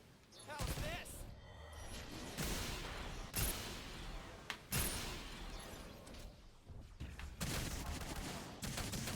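Rapid gunfire from weapons in the mech shooter game Gundam Evolution, bursts of shots crackling across the whole clip alongside other game effects, with a voice speaking over the top.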